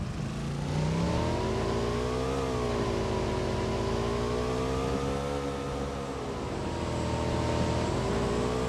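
Motorbike engine in the PUBG Mobile video game, a loud, continuous buzzing drone whose pitch rises and falls as the rider throttles along, with no talk over it.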